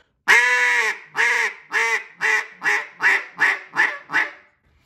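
A duck call blows a basic quack note: a steady series of nine loud, nasal quacks, the first one drawn out and the rest short and evenly spaced, with no other sound.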